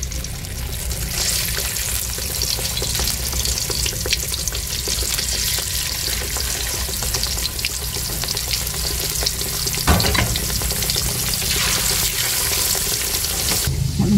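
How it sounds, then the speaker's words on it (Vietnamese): Thin pressed fish cakes frying in a pan of hot oil, a loud continuous sizzle and crackle with a few clinks of utensils throughout. "Mình ép chả cá này, mình để mình chiên."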